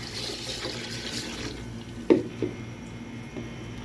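Water is poured into a cooking pot for ghee rice, 2.5 litres over 3/4 kilo of rice, a soft continuous trickle with a couple of brief splashy gurgles, faint and close.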